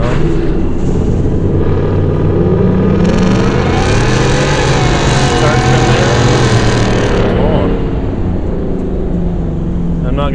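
A Hennessey VelociRaptor V8 pickup truck engine roars as it accelerates hard, the pitch climbing through a rev, then easing off into a steady loud rumble.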